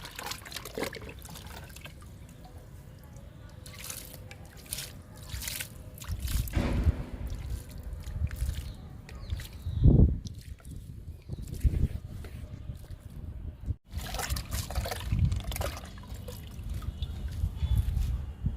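Aloe vera liquid is poured onto potted plants in a garden, giving a steady soft trickling and dribbling of liquid with occasional splashes and handling noises, close by and fairly quiet.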